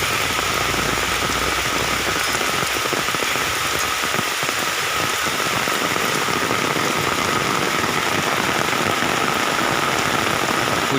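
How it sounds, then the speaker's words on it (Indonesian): Heavy rain pours steadily on a cattle-grazing plantation, a dense, constant hiss with no break across the whole stretch and no voices, plus a faint low engine-like rumble beneath. "Hujannya lumayan lebat guys."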